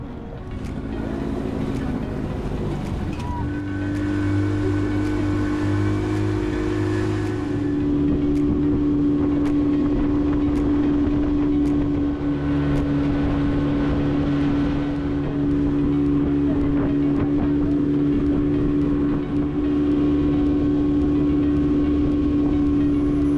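Water shuttle boat running to West Bay Beach on Roatán, Honduras, with a loud, steady engine drone and tonal hum plus wash of water throughout, a pitch shift partway as the motor changes speed, no talk.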